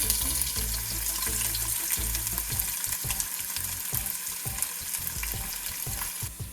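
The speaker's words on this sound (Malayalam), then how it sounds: "കടുക് പൊട്ടിക്കഴിയുമ്പോൾ അതിലേക്ക് ചുവന്നുള്ളി ഇട്ട് കൊടുക്കാം." Shallots hitting hot oil with popped mustard seeds for a Kerala-style prawn and mango curry, a loud, close, continuous sizzle with crackles and stirring scrapes, no voice.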